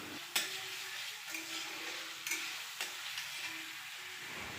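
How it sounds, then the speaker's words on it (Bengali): Fried hilsa fish head and tail frying with spice paste in a pan, a soft, low sizzle with several sharp spatula knocks and stirring scrapes at intervals, no speech. "ভেজে রাখা মাছের মাথা ও লেজটা দিয়ে দেব দিয়ে ভালো করে আর একটু ভেজে নেব মশলাটার সাথে"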